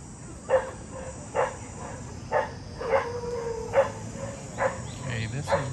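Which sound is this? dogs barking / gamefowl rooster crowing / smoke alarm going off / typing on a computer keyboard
dogs barking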